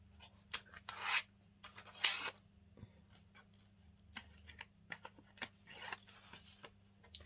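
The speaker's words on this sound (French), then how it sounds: "on va pouvoir lever tout notre scotch" Short crackling, ripping bursts come in irregular pulls over a low steady hum, like tape being peeled slowly off paper.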